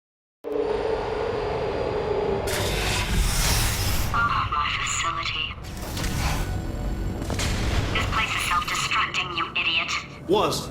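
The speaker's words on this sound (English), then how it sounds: "Programmed in one last tremor for old time's sake." A deep facility tremor rumbles through the Portal 2 test chambers, a loud, continuous low roar with crashing bursts that swell and fade over about ten seconds.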